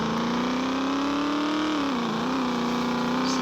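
A Volkswagen Kombi van's engine revving steadily and close up while turning, its strained pitch dipping briefly and then holding, with no talk.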